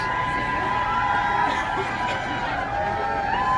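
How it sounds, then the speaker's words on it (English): A large crowd of protesters at an airport shouts and cheers in a continuous, fairly distant wash of voices, with a thin steady tone running underneath. "Even the crowd just gone from a couple dozen people to now a couple hundreds of people."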